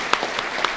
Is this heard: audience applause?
yes